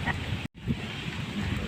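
Steady wind rushes and buffets the microphone outdoors at the seaside, with a brief cut in the sound early on and no voices.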